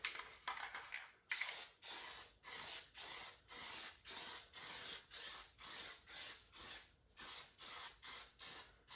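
Rhythmic bursts of aerosol spray as Plasti Dip rubber coating is applied to the wheels of a 5th-generation Camaro, about fifteen short hissing passes in steady succession, close and alone.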